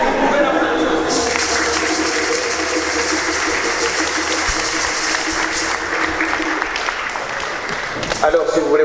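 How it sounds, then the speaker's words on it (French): Applause from a congregation inside a church during a first communion service, a steady wash of clapping with speech mixed in and a few sharper taps near the end. "Vous pouvez l'applaudir aussi."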